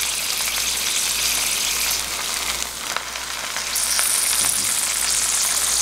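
Vegetable tempura in batter sizzles and crackles in hot oil in an electric pan, a dense steady frying hiss that rises slightly toward the end, with no talk.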